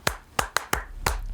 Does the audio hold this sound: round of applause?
yes